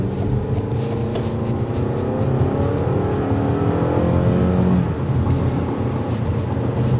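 A 2024 Toyota RAV4 LE SUV's engine revving up under acceleration through an 8-speed automatic, its pitch climbing steadily with a deep exhaust rumble and constant road noise, no voices.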